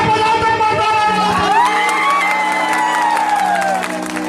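Crowd at a Maithili stage comedy and duet show cheers and shouts over music, with whoops and children's voices rising and falling, loud and continuous throughout.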